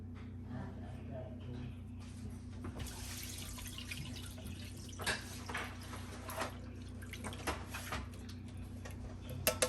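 Liquid from canned mandarin oranges drains in faint trickles and drips, quiet and close over a steady low hum, with soft voices in the background.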